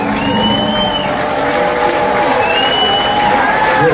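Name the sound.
concert audience applause and cheering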